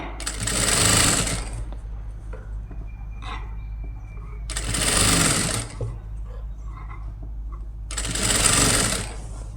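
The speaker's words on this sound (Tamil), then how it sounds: "இப்படியே இந்த எஜ்ஜிலேயே நான் கரெக்டாக இதை மடித்து கொடுத்து தைச்சிக்கிட்டே வந்துட்டுருக்கேன்" A sewing machine stitches piping onto a lined blouse in three loud, steady whirring bursts of a few seconds each, separated by quieter pauses with a low background hum.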